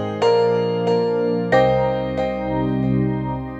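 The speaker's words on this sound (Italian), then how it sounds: "Quindi poco dopo entra in gioco il piano, che suona così." A piano part from a music production, played with an Analog Lab preset: sustained chords struck about five times in a slow rhythm, each attack ringing out clearly and alone.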